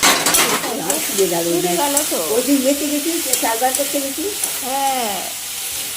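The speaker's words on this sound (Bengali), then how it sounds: "এভাবে করে ঢেকে ঢেকে কিন্তু নাড়াচাড়া দিয়ে দিয়ে ভাজা" Sliced okra (bhindi) sizzles and fries in a covered pan while being stirred, a steady crackle of hot oil with scraping strokes, as a voice speaks over it near the pan.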